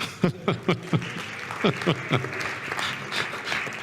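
Conference audience at a panel on transatlantic relations responds with a few scattered, sparse claps spaced in a loose rhythm, with some faint chuckling from the room.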